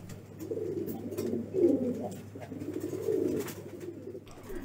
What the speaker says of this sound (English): exceptional beautiful English Fantail Pigeon.